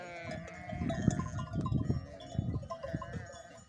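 Sheep in a flock on a mountain pasture bleat several times in quick succession, fairly close, with faint rustling and a distant bell-like clink between calls.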